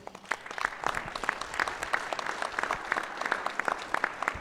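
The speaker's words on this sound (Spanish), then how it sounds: "les mandamos un fuerte aplauso a nuestros compañeros" Clapping from a crowd at a weekly political assembly, a steady crackling patter of many hands with sharp individual claps standing out, moderately loud and continuous throughout.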